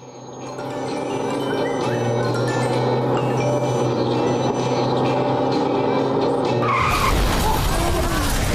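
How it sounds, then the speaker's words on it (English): A car in a television advert skids off the road and crashes, a long loud screech of tyres over engine roar that ends in a sudden harsh impact and clatter near the end. "the on-screen car careered off the road and crashed"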